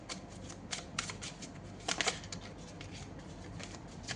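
Playing cards shuffled and drawn during a tarot reading, a steady papery riffling with several sharper snaps and flicks, fairly close and continuous with no talk over it.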